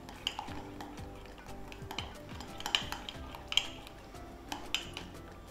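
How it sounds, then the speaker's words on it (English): A spoon stirring spices in the bottom of a mug, a close, quiet run of scraping swirls punctuated by light clinks against the ceramic. "give everything a good stir to make sure it's all combined"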